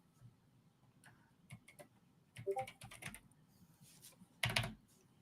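Typing on a computer keyboard: bursts of soft key clicks, sparse then denser, with one louder clack near the end, close and alone with no talk.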